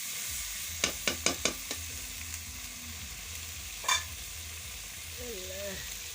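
Onions and spices simmering in water in a pot for a meat dish: a quick run of five spoon clinks against the pot as they are stirred, a later single knock, and a soft, steady sizzle beneath.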